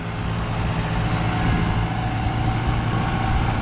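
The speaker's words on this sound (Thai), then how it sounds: "อันนี้ก็เดินเบาๆนิ่งๆครับ เสียงเครื่องยนต์สองค่ายในกะ" A farm tractor's engine idles smoothly at low revs, giving a steady, even low rumble close by. The sound stays constant throughout with no voices over it.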